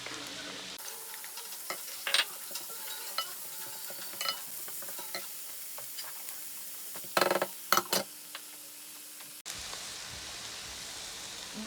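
Carrots and eggs frying in a pan with a steady sizzle, stirred now and then with scattered clinks and scrapes of the utensil; the sizzling cuts off near the end.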